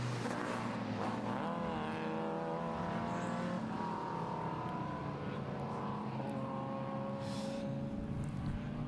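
Race cars at a motorsport event sweep through a series of S-bend corners, engine notes rising and falling continuously as several cars pass close together, loud and sustained without any talk.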